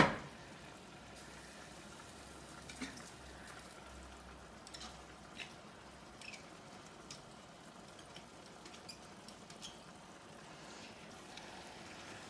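Boiled pasta being drained, with a faint, steady rush of water and a soft splashy patter that continues evenly throughout.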